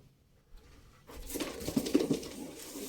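Pigeons coo softly with low throaty calls, and faint rustling and fluttering can be heard after a quiet start.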